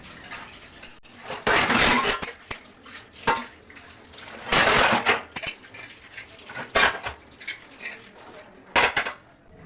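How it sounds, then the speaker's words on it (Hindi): Dishes, pots and pans are washed by hand with water in a home kitchen: repeated clattering of metal and crockery, splashing and running water in uneven bursts, fairly close, with no talking. "तो फटाफट से मैं बर्तन साफ़ कर ले।"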